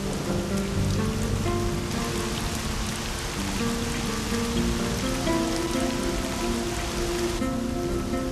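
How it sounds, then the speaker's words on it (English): Steady monsoon rain falls at a desert oasis, a dense even patter of drops on the ground and water that holds constant throughout. "In the desert oasis, the monsoon rains are a trickle at first."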